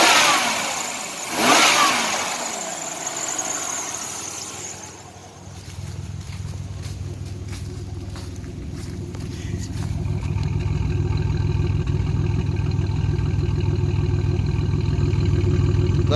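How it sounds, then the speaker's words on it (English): A 3.1 V6 Chevrolet Lumina Euro Sport with its exhaust revving: a loud rev burst near the start, then a steady low rumble building and holding close by. "Nothing like a good old sound of exhaust."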